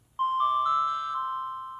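A bright tone from a Skoog 2.0 electronic instrument in a high octave rings out high and clear, sustaining with a soft bell-like quality before slowly fading, alone without any talking.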